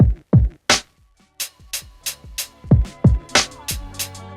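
Sampled drum hits played on an MPC Live II, a sparse pattern of punchy kicks with pitch-dropping low thumps, snappy snare-like cracks and bright percussive ticks, loud and close with no talking.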